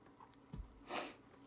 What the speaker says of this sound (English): I'm sorry y'all, I'm sorry to sniffle